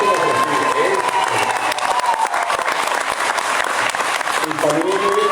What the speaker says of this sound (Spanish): Ahora quiero que el aplauso sea fuerte para Antonio José Camacho